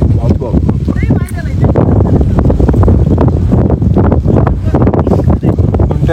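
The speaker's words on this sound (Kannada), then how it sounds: "ಗಾಳಿ ನೋಡಿ ಹೆಂಗ್ ಬರ್ತಿದೆ." Strong gusts buffet the microphone in a constant rumbling roar while a person talks over the wind.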